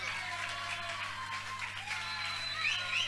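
A concert crowd applauds and cheers steadily throughout, a dense wash of clapping with no pauses.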